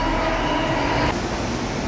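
Underground metro train at Kankaria East station in Ahmedabad, a loud steady rumble and rolling hum with a faint tonal whine that shifts partway through.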